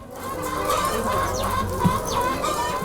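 Local chickens on a Kenyan poultry farm cluck and call steadily for a few seconds, close by and fairly loud, with overlapping calls from several birds and no talk.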